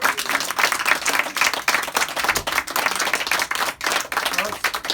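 Audience applause at a card magic show, loud dense clapping from a small crowd close by, sustained across the whole stretch with a voice speaking over it.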